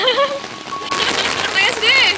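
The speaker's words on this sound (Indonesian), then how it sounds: "Hujan, motor kita kehujanan." Rain falling steadily on a surface outdoors, a motorbike getting wet in the downpour; a constant hissing patter throughout, with people talking over it.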